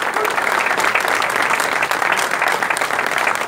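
Audience applause at the inauguration of a new regional office, a steady dense wash of clapping that holds evenly loud throughout, with no voices over it.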